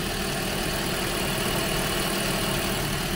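A car engine idles steadily after its coolant has been refilled while trapped air bubbles out, a continuous even rumble up close with no talking.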